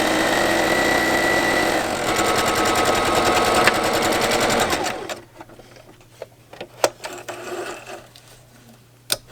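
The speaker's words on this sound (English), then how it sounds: "And then again, sew down the long side." A sewing machine runs steadily down the long side of a flour sack towel, a loud continuous mechanical whir for about five seconds, then stops and gives way to scattered handling clicks and rustles.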